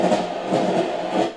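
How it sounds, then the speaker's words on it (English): Train journey ambience from a white noise machine played on a tablet speaker dock: a steady broadband rumble with soft rhythmic swells, like a carriage rolling along, brief and constant. "It's like you're on a train."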